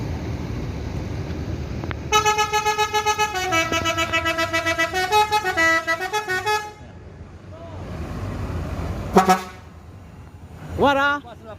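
Buses pulling out of Balai Solok terminal sound a long, loud, melodic multi-tone horn. Engine rumble and shorter honks follow, and one horn rises in pitch near the end.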